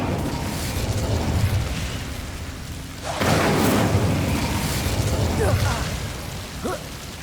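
A fire spell bursts in a fantasy castle setting, a loud rumbling blast surging up at about three seconds and roaring for a couple of seconds over a steady game background, with voices heard earlier.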